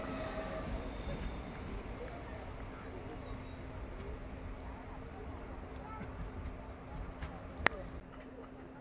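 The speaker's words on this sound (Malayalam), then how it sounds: "ട്രെയിൻ ഇപ്പം മുന്നോട്ടേക്ക് പോവുകയാണ്" The Kannur–Ernakulam Intercity Express pulls away from platform three at Tanur station, a steady low rumble of carriages with one sharp click near the end.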